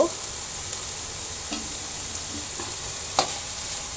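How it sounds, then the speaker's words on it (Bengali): Onion and ginger frying in a little mustard oil for a mashed bhorta: a steady soft sizzle with a few scattered utensil clicks and scrapes, no talking. "আমি হালকা একটু সরিষার তেল দেব, দিয়ে ভেজে নেব"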